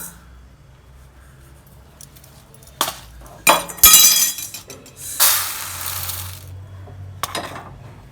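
Dry-roasted moong dal is tipped out of a pan, giving a few scattered clinks followed by bursts of hard grainy rattling and pouring as the lentils spill into a container, close and fairly loud.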